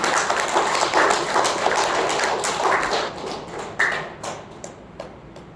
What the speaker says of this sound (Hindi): तो महावीर स्वामी के लिए जोरदार तालियां होनी चाहिए